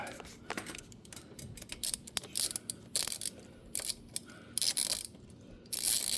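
A tool backs out the ABS sensor screw on a 2017 BMW F800GS motorcycle, giving short bursts of ratcheting clicks at an irregular pace, close and fairly faint.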